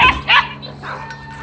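On a farm, a dog gives two sharp, close barks at the start, then quieter background noise with no talk.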